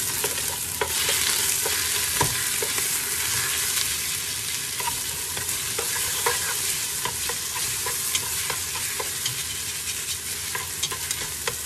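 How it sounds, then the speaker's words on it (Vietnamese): Shrimp stir-fried in a pan, a loud dense sizzle running throughout with frequent spatula scrapes and clicks, close and steady, no talking. "Mình xào cho cái tôm này nó săn đỏ lại"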